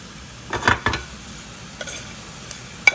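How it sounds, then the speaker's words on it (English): Sesame seeds toasting in a dry pan give off a few faint, scattered pops and crackles, spaced irregularly over a quiet background. "You see how it's popping and smell sesame seed?"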